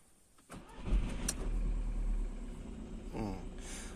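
A Seat Alhambra 2.0 TDI diesel engine cranks briefly and catches, then settles into a steady low idle close by, with a second brief surge near the end.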